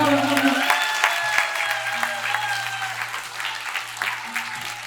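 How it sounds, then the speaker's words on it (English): An audience claps after a live stage performance of the musical Matilda, a dense, steady roar of many hands that fades slightly toward the end, with a low steady hum underneath. "you're gonna have to keep clapping, keep clapping, keep clapping"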